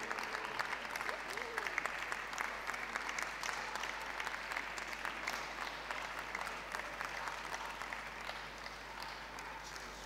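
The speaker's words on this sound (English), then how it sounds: "Feel free to applaud" Steady, sustained applause from a dog show audience ringside at the Birmingham National group judging, many hands clapping densely and evenly throughout with a faint murmur of crowd beneath.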